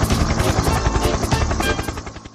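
A storybook helicopter sound effect plays loud and close, with a fast rhythmic rotor chop and a whining buzz that never lets up.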